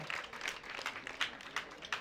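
Applause from an audience at a school group's recognition during a half marathon trust's annual event, a steady wash of clapping with a few sharper bursts, fairly distant and even throughout.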